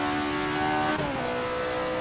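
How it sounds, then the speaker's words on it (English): A simulated Alfa Romeo 33 Stradale from the mid-1960s revs high in the Assetto Corsa racing game, a steady, tonal engine note whose pitch shifts midway, heard alone and at moderate level. "Listening to this thing rev is where it starts to get really unique."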